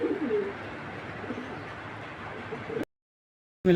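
Racing pigeons coo in a steady low murmur from close by for almost three seconds, then a brief silent gap before the sound returns.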